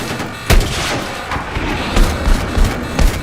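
Gunfire and heavy explosive booms in Battlefield 6, loud and dense, with repeated thumping blasts over continuous battle noise.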